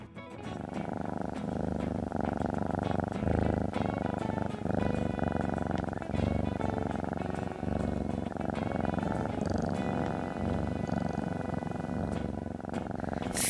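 Voices imitate a cat's purr, a continuous low rumbling drone with rhythmic pulses, held steadily for over ten seconds.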